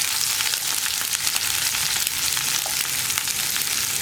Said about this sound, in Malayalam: ഞാൻ സവോളയും കറിവേപ്പിലയും ഒരുമിച്ചാണ് ചേർത്തിട്ടുള്ളത്.